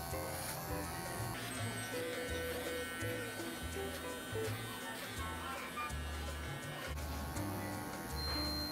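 Electric hair clippers buzz steadily during a haircut, a continuous close-up hum with slight pitch shifts as the blades move through hair, while a voice talks over it now and then.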